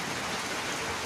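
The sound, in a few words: heavy rain with hail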